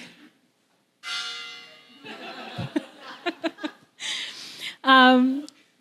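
A gong struck as a timer at a creative industry roundtable, ringing out with a sustained shimmering tone among laughter and talk from the audience and speakers.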